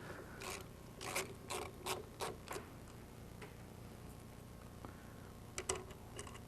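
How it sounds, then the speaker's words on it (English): Screws are backed out of the ignition points in the distributor of an early post-war Rolls-Royce during a tune-up, making faint close metallic clicks and scrapes in short bursts with quiet gaps between. "We then need to remove these 2 forward screws closest to the point."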